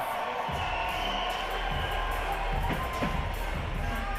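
A crowd at the X Games Minneapolis 2019 BMX vert event cheers and roars in a steady, continuous wash of noise that stays fairly far off and even throughout.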